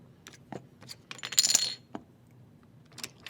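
Light clicking clatter of casino chips set down and stacked on a blackjack table beside the shuffle pad, several sharp taps with a brief cluster in the middle, close and quiet.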